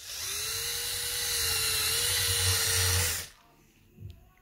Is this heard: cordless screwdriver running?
yes